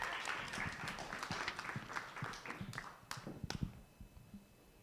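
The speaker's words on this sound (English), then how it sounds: "Let's give them a round of applause." Small audience applause at a pitch competition, faint scattered clapping with individual sharp claps standing out, thinning and dying away toward the end.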